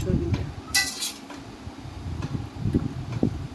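Boiled soybeans are scooped into a bowl, with utensil clinks and scrapes, one bright metallic clatter, and a faint background hum.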